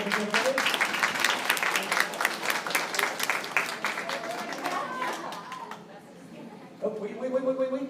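A crowd at an awards event claps warmly and densely, and the applause thins out after about five seconds. A voice then starts speaking over the last scattered claps.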